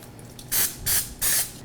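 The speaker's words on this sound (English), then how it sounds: "I'm going to use a coconut oil spray because it matches the coconut oil that's already in our batter." Coconut oil cooking spray hisses onto a donut mold in three short, loud bursts of about a quarter second each, close up with brief pauses between them.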